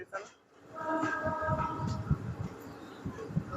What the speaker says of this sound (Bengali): একদম ধীর গতিতে স্কিপ করছে ভাবতা স্টেশন।